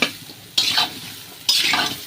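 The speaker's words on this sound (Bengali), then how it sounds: "5 থেকে 7 মিনিট ভালো করে ভেজে নেব" Raw mango pickle fries in a pan with turmeric, chili powder and salt, two loud bursts of sizzling stirring over a quieter steady fry, close and without talk.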